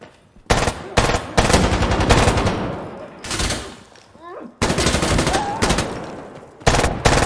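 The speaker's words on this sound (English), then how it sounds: "do a gun run at this target" An air support gun run in Insurgency Sandstorm fires loud, close bursts of rapid automatic gunfire, several long volleys separated by short gaps, with a whooshing pass between them.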